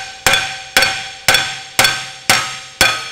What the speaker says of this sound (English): You just hammer them out?